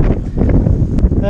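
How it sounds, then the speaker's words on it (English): Strong wind buffets the microphone on an abandoned Victorian pier at Weston-super-Mare with a loud, continuous low rumble that never lets up; muffled voice-like sounds come and go beneath it. "I apologise for the wind,"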